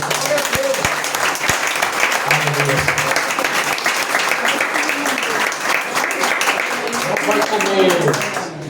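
Applause fills a church, sustained clapping from the congregation with voices talking and calling out over it.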